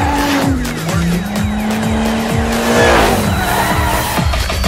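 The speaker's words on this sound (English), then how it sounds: "the way the cars power slide through a corner" Furious 7 cars power sliding through corners in Forza Horizon 2 on Xbox One, loud engines revving and shifting while tires squeal continuously, close and sustained with no voices.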